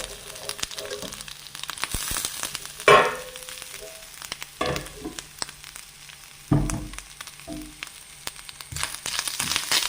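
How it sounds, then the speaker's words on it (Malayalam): Grated coconut frying in oil with mustard seeds and curry leaves for pumpkin erissery, a steady close sizzle with sharper crackling bursts and occasional stirring scrapes, no talk. "എരിശ്ശേരിക്കകത്തേക്ക് കടുക് വറുക്കുമ്പോൾ നമ്മൾ കുറച്ച് തേങ്ങ കൂടെ വറുത്തിടുമ്പോഴേ"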